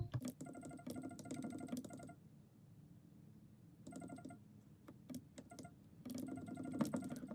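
Keys clicking on a keyboard while a web link is typed, in quick bursts of rapid taps separated by short pauses, quiet and close.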